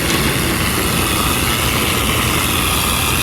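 A pressure washer engine drones steadily at close range while rinsing with the ball valve wide open at high flow and low pressure, a loud unbroken roar mixed with rushing water spray.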